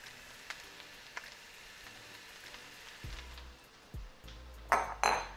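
Chopped onions and garlic drop into a soup pot for chicken noodle soup, a few soft clattering thumps and a brief sizzle near the end after quiet background kitchen noise.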